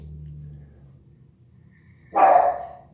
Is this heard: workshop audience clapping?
no